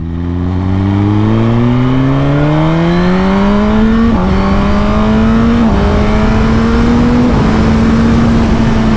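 A loud Suzuki GSX-R1000R sport motorcycle engine with a Yoshimura exhaust revs steadily upward through several gear shifts, its throaty exhaust note rising and holding strong throughout, with no talking.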